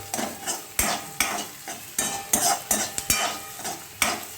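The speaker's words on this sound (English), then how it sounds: "So I am stirring the onion for a bit." Onions and Ching's Chowmein masala being stirred in a frying pan for vegetable Hakka noodles, with a steady sizzle beneath repeated sharp scrapes and clinks of the spoon against the pan, close and alone without talk.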